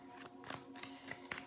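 Tarot cards shuffled by hand, several soft riffling bursts in quick succession, close and quiet, with no talking.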